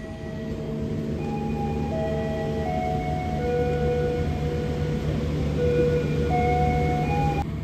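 A Lodaya stainless new generation passenger train pulls out of Cipendei station at night, a steady loud rumble with sustained horn-like tones shifting in pitch over the whole stretch, no voices.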